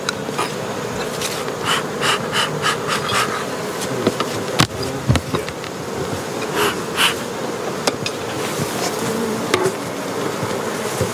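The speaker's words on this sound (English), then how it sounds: "Looks like this colony has plenty of bees." Honey bees buzz loudly around a hive colony during propolis collection, a continuous close drone with individual bees zipping past and a few sharp knocks and clicks from hive equipment.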